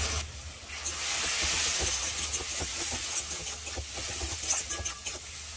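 Onions frying in a pan for chicken curry give off a steady, close sizzle with faint stirring scrapes and no talking.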